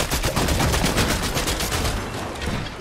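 Dense, rapid automatic gunfire from an extended-mag golden Gatekeeper in a video game, loud and continuous bursts filling the whole stretch with no talking.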